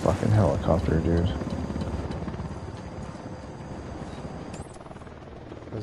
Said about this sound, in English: This fucking helicopter